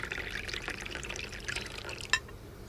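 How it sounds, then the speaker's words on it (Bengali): Coffee pours from a flask in a soft, continuous trickle for a few seconds, faint and close, as a dramatised effect with no talk over it. "চেয়ারে বসতেই ফ্লাস্ক থেকে কফি ঢেলে"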